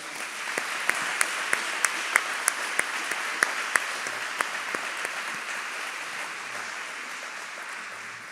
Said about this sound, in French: Alors, nous pouvons applaudir la Vierge Marie déjà.